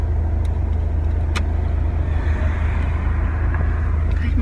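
Interior of a small car driving, a steady loud low engine and road rumble throughout with constant tire noise and no clear voices.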